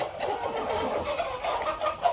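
Country hens cluck softly in a low-cost coop built for laying, a quiet, continuous murmur of fowl sounds close by with no voices.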